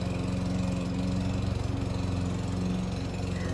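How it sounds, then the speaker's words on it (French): A lawn mower engine drones steadily nearby, a continuous pulsing mid-pitched hum that runs through the whole stretch with no voices over it. "On a la tondeuse."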